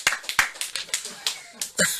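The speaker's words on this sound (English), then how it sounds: "Let's have a round of applause for Gaza." An audience at a live comedy night gives a round of uneven, scattered claps. The claps are sharp and fairly close, with a louder burst near the end.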